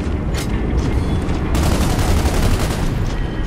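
Sustained gunfire from the Gears of War 2 video game, a dense, continuous rattle of rapid shots with loud booming bursts, staying steady and close for the whole stretch.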